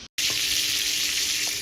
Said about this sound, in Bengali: পটলগুলো এবার ভেজে নিচ্ছি, একটু ঢাকা দিয়ে ভাজতে হবে